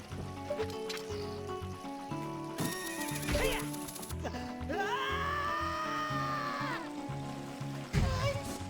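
A horse in the video game Zelda: Ocarina of Time whinnies in loud, drawn-out neighs over background game music, with hoof clip-clop and a trickle of water mixed in.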